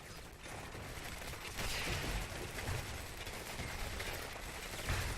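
Dense in-game gunfire and explosive battle noise from a Command & Conquer 3: Tiberium Wars Nod mission at a space center, a continuous loud barrage with bursts swelling around the two- and five-second marks.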